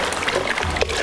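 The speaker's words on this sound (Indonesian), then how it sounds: "sekarang langkah selanjutnya adalah menyiram tubuh jenazah dengan air kapur barus" Camphor water poured over a body while it is washed for burial: a steady, close splashing pour with trickling water, running continuously for about a second.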